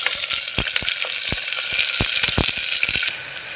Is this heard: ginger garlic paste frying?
yes